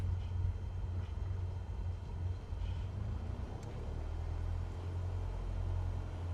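Simulated Cessna 172 engine in MSFS 2024 at taxi, a steady low droning rumble holding even and moderately loud as power is added, with no voices.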